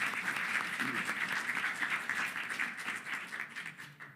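A congregation at a Unitarian Universalist Sunday service claps steadily in a room, sustained applause that tapers off toward the end.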